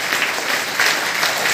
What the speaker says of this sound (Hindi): इन मिस्टर मिथिलेश कुमार सर के लिए दिल खोल के एक बार जोरदार ताली होनी चाहिए